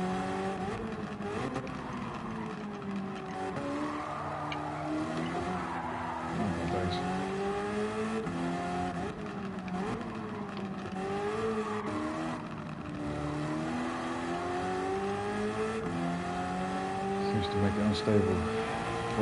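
A race car engine wails at speed along a straight in Gran Turismo 7, its pitch sweeping up and down through gear shifts with tyre noise, steady and prominent, with someone talking over it.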